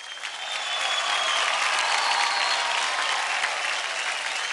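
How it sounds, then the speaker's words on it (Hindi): A studio audience at a televised children's dance show breaks into loud, sustained applause, a dense wash of clapping that swells and holds steady. "जोरदार ताली हो जाए।"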